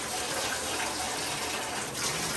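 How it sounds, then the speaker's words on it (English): Lukewarm water runs steadily from a tap for a bath for six-week-old American bully puppies, a continuous close gushing splash with no voices. "Lukewarm water."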